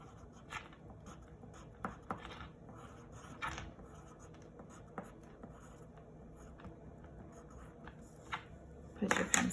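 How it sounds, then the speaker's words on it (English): Pencil tracing the word alligator on paper during a children's letter-sound lesson, soft scratchy strokes in short bursts separated by quiet gaps, with a louder rustle at the end. "I'm gonna trace the word alligator."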